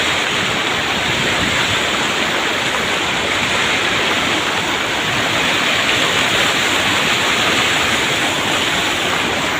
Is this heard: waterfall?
yes